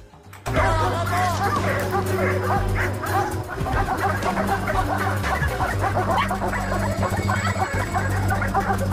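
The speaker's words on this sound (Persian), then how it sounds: "دوبرمنه" A Doberman barks in rapid, loud, continuous yelps and yips close by, with a steady background hum and a few voices in the mix.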